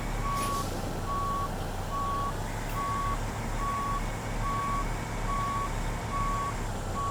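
A truck reverses in American Truck Simulator to hook up a trailer, its backup alarm beeping in an even, steady rhythm over a constant low engine rumble, with no talk.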